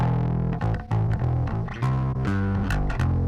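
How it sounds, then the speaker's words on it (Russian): Clean, undistorted bass line playing a steady run of low sustained notes with brief gaps between them, loud and close, no voices. "Вот так бас звучал изначально."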